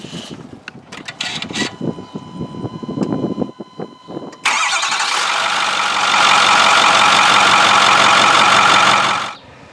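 A Ford 6.4 Powerstroke diesel truck engine starts: a few seconds of clicks and starter cranking, then the engine catches and settles into a loud, steady, rumbling idle up close before fading at the end.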